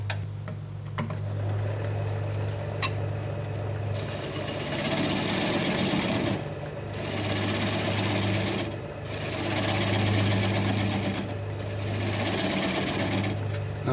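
A wood lathe spins an out-of-balance bowl blank while a 3/8 inch swept-back bowl gouge cuts, giving a steady low motor hum with rhythmic pulsing bursts of scraping as the tool bites, fairly quiet and without talk.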